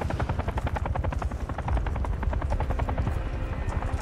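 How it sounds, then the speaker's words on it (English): A helicopter in the Call of Duty Modern Warfare 3 video game gives a steady, loud rotor thump that runs unbroken throughout, with no talk over it. "where's the helicopter going?"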